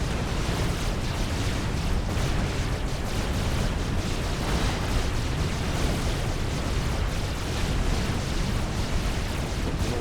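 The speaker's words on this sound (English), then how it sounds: "Down goes another T2 P-Gen there for Icononyx." Explosions of units during a Supreme Commander: Forged Alliance match, including a T2 power generator going down, roar as a dense, continuous rumble of booms and bursts filling the whole stretch at a steady loud level.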